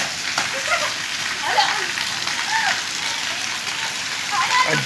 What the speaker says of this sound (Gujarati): સતત વાંકાનેરમાં રોજ સાંજ પડે અને વરસાદ આવી જાય છે